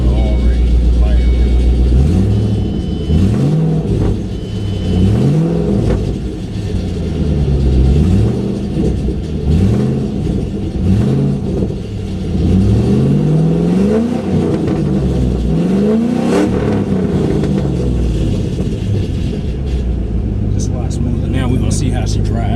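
A Ford Mustang GT S197 V8 fitted with new MSD coil-on-plug coils after a misfire rumbles loudly nearby, rising and falling through repeated revs and shifts as it drives, with a voice talking over it at times.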